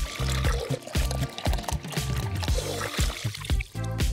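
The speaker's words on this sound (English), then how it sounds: "Now we'll fill up a smaller container with water." Water pours into a small container for a doll pool craft, with a splashing, gurgling stream and a series of rhythmic glugs and plops close by.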